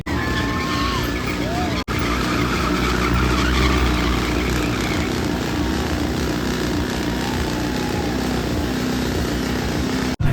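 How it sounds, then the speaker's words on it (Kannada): Motorcycle engines at a World Motorcycle Day rider gathering form a loud, continuous roar, with revving and droning engines close by and a crowd of voices mixed into the din. "ಇವಾಗ ನೀವು ನೋಡ್ತಾ ಇರಬಹುದು ನನ್ನ ಸುತ್ತಮುತ್ತ ಈಗಾಗಲೇ ಬೈಕ್ ಇಂಜಿನ್ಗಳ ಸದ್ದು ಯಾವ ತರ ಕೇಳಿಸ್ತಾ ಇದೆ ಅಂತ"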